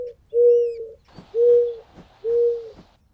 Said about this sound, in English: baby toucan bird.